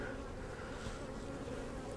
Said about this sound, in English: Just didn't see a lot of bees going in and out of the entrance, so I was a little concerned.